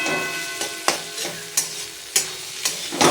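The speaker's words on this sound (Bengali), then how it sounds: "আলু ভাজাটা মোটামুটি অনেকটাই ভাজা হয়ে গেছে দেখো ভাজা ভাজা হয়ে গেছে" Potatoes sizzle in a frying pan under a hissing wash of oil, broken by about five sharp scrapes and clanks of a spatula stirring them at roughly half-second intervals. No one speaks.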